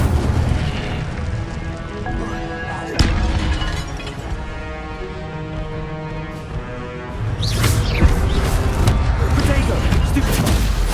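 Incendio fire spells burst out in Hogwarts Legacy, with a sharp whooshing boom partway through and a louder flurry of fiery blasts and crackles near the end over ongoing game music.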